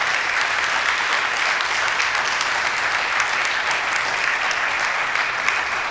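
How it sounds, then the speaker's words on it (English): Audience applause for the panelists at the close of a panel discussion on addiction and substance abuse, a steady, dense wash of clapping that holds at an even level for the whole stretch without any voices. "could we give another round of applause to our panelists?"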